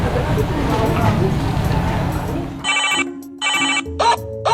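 A telephone rings in a sitcom setting with people talking. A stretch of busy noise is followed by a loud electronic ring that repeats in several bursts separated by short gaps.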